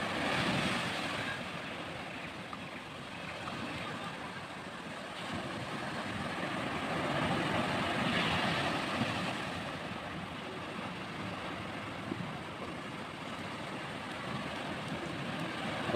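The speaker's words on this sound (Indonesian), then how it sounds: "Semakin siang, semakin besar ombaknya." Ocean waves on a white-sand beach at Nusakambangan, Cilacap, a continuous broad roar of surf that swells and eases gently, steady and fairly close, with no talking.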